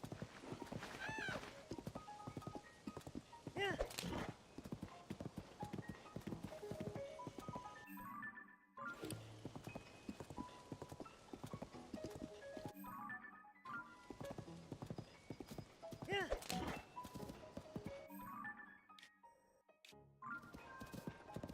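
In Zelda: Tears of the Kingdom, a golden horse's hooves clip-clop in a steady rhythm, with whinnying now and then and a few short gaps, over quiet game background sounds.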